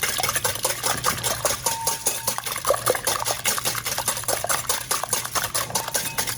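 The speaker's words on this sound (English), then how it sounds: "mix that right into the eggs" Eggs being mixed with salt and pepper for Big Martha's latkes, a steady run of quick clicking whisk or fork strokes against a bowl, fairly close and continuous with no talk.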